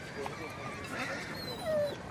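A horse in Mongolia whinnies faintly amid outdoor ambience, with a brief tonal neigh near the end and muffled voices talking in the background.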